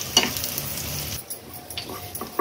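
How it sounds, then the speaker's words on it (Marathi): Sliced onion sautés in hot oil in a home kitchen pan, a soft broadband sizzle with a few stirring scrapes, fairly close, fading a little partway through. "कांदा तेलावर फक्त परतून घ्यायचा आहे सुरुवातीला"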